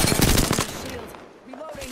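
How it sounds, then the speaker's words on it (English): Rapid bursts of automatic gunfire aimed at the player in the battle royale game Apex Legends, loud and dense at first, then thinning out, with a voice talking over the shots. "They're shooting at me."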